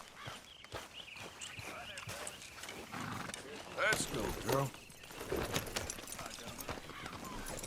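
Horse riding in Red Dead Redemption 2, with hoof clip-clops and footsteps moving along under a voice urging the horse on, the rhythm loosening and picking up midway.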